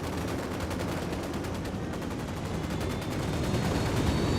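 Rapid machine gun fire rattles continuously in the video game Ghost Recon: Wildlands, a dense, steady stream of shots that stays loud throughout over constant battle noise.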